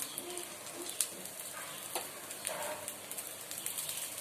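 A ghavane crepe fries in oil on a hot griddle with a steady, fairly quiet hiss of sizzling, broken by small crackles and a few light pops, with no speech.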